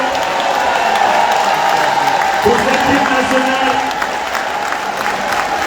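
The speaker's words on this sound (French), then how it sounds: "Vos applaudissements s'il vous plaît pour deux enfants qui nous ont accompagnés" An audience applauds two children after a national anthem: steady crowd clapping fills the background throughout while a voice speaks over it.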